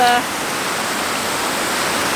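A flowing stream water feature in Seoul, heard as a steady, fairly loud broadband rush of water that runs continuously without pause.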